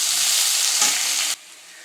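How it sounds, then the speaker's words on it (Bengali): Onion fries in hot oil, a dense, close sizzle with faint stirring that cuts off abruptly to a much quieter hiss partway through. "পেঁয়াজটা ভালো করে ভেজে নেব।"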